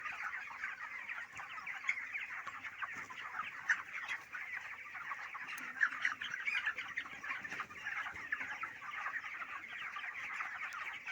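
A crowded poultry-farm flock of chickens clucks and chatters without pause, a dense, even layer of many birds calling at once, close and moderately loud with no voices over it.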